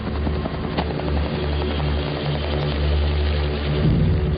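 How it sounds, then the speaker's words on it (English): Military helicopters pass overhead during a New Zealand SAS patrol evasion exercise in dense bush, a loud, continuous rotor throb and engine roar filling the air with no voices. "As the choppers pass overhead"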